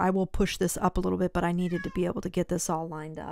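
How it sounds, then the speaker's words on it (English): A pet cat meows briefly in the background of an indoor room, faint and partly masked while a person talks over it. "That's my cat, if you heard her."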